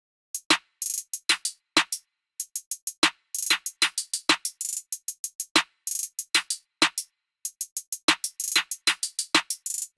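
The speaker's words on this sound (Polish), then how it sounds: "Następnie mamy wyspacowane hi-hety, które ze snare'em brzmią tak." Crisp, spaced hi-hats tick in fast rolling patterns alongside sharp snare cracks in an FL Studio trap beat, the clean electronic drums playing alone with no other instruments or voices.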